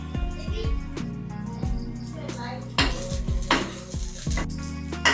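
Clattering of a hot metal pan and utensils with a soft sizzle underneath as a lachha paratha goes in to fry, several sharp knocks and scrapes spread irregularly over a few seconds.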